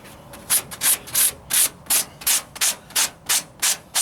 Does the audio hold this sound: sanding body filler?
yes